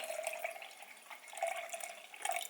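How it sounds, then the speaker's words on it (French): Cherry and pomegranate juice is poured into a glass, making a quiet, steady liquid trickle and splash close by that continues without a break and with no talking. "Et là, je vais en mettre dans mon verre, cette quantité-là, comme ça."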